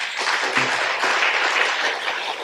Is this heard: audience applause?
yes